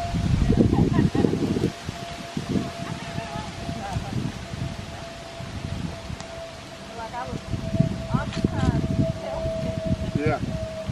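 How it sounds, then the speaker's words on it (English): Gusty wind buffets the microphone on a trail near a bridge at Joe Wheeler State Park in Alabama, loud rumbling bursts rising and falling throughout, with faint bird calls and brief talk mixed in. "I apologize for all that wind noise."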